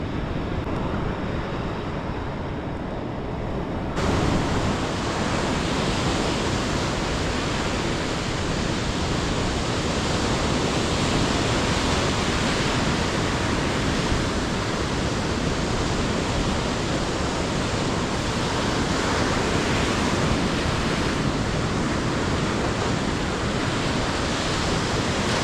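Wild ocean surf breaking on a Florida beach, a continuous loud roar of crashing waves and wind with no voices, steady for the whole stretch and swelling slightly after the first few seconds.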